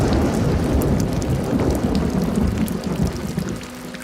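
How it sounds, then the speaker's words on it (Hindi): Steady heavy rain pours down hard with thunder rumbling beneath it, a loud and continuous downpour with no voices. "आज तो बड़ी भयंकर बारिश है।"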